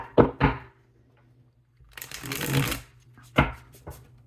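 A short burst of tarot cards being riffle-shuffled, a rapid papery flutter lasting under a second, framed by a few soft taps of cards on a table.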